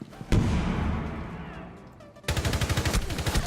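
Gunshots in the tactical shooter Rainbow Six Siege: a loud close shot with a decaying tail, then a rapid rhythmic burst of automatic fire.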